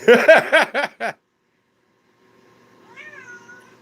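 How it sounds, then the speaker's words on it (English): A house cat meows four times in quick succession, close and loud, then falls silent before a softer, drawn-out meow rises faintly near the end. "Oh, you're hungry. 1 second, everybody. I gotta feed the cat."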